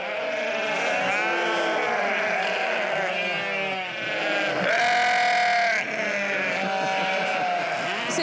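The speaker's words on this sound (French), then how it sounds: "car ces brebis mérinos sont des stars" Merino ewes and their lambs bleat loudly and constantly in a barn, many overlapping cries close by with no pause.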